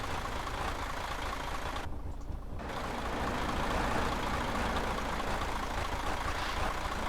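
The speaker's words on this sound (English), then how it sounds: "And that engine sounds so poorly." Simulated truck engine idling in Euro Truck Simulator 2 at a rest stop, a steady low rumble with a rough, poorly running tone that fills the whole stretch alone, with a brief dip near the start.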